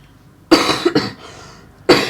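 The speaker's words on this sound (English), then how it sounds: "quite annoying with the cough and cold" Three sharp coughs from someone with a cold, close and loud, the first two in quick succession and a third after a pause.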